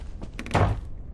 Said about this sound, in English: Slamming the door in my face.